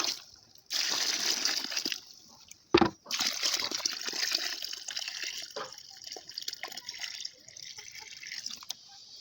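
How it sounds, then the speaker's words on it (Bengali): Water is poured into a dry soil pit dug for a home electrical earthing setup, a close, splashing stream that runs in long stretches with one brief break and a sharp knock partway through. "এবার জল আমরা ঢেলে দিলাম।"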